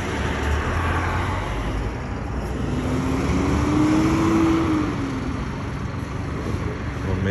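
A replacement bus pulls away on a trip home from Delhi, its engine a steady low rumble with a tone rising in pitch and then fading back, heard from a moderate distance.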